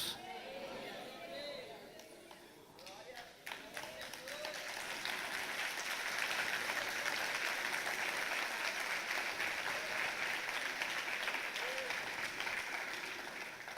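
Applause fills a church, faint murmuring voices at first, then a broad even wash of clapping from the congregation that swells and holds, heard from a distance and fairly quiet.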